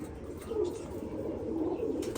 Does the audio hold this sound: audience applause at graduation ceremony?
no